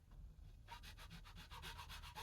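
A small rasp files the nock of a yew wood bow in quick rhythmic strokes, about eight close scraping passes after a brief quiet start, alone and fairly faint.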